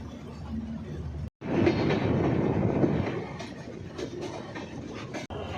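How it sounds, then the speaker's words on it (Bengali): A train leaving Kamalapur railway station in Dhaka rolls along with a steady rumble and faint rhythmic clatter of wheels; brief gaps break the sound twice. "ছেড়ে যাচ্ছি কমলাপুর রেলওয়ে স্টেশন"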